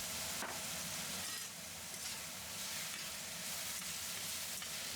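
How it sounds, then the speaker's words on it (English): Eggplant stir-fried with soy sauce over high heat gives a steady, dense sizzle with a faint scrape of stirring, holding level throughout and never breaking off. "Then add in some soy sauce and keep stirring for another minute."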